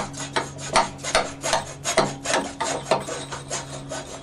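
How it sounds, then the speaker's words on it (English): A hacksaw cuts through a garden hose with steady, evenly spaced back-and-forth rasping strokes, about ten in a row, close up and moderately loud, with no talking. "All you got to do is cut the hose, and I find a hacksaw works best."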